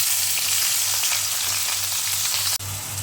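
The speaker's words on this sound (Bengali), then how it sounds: "এখন হচ্ছে আমি পেঁয়াজ কুচি দিয়ে দিব" Chopped onions frying in hot oil in a zinc wok for a spicy chicken curry, producing a loud, steady close-up sizzle with a brief dip near the end.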